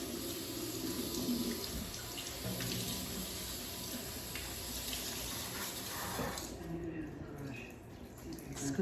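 Water runs steadily from a tap while rinsing shampoo from a raw hair closure, a constant close splashing hiss that continues the whole time, with faint movement beneath it.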